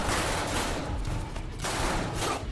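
Dense, continuous gunfire from a shootout in the action film Code 8, loud and sustained for the whole stretch with bursts blending into a wall of noise.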